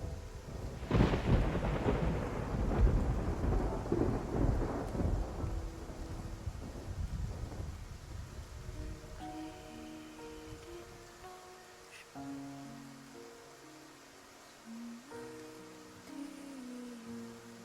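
Thunder rumbles heavily through a rainy storm at sea in the game Love and Deepspace, loud rolling crashes for the first seconds fading into steady rain and wind, with a sustained musical score rising underneath later on.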